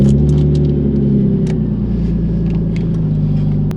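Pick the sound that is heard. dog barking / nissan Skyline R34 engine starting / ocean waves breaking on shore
nissan Skyline R34 engine starting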